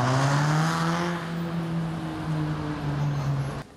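A single car passing through an urban street, steady engine drone with a gradually falling pitch as it moves by, fairly loud and close, cutting off abruptly near the end.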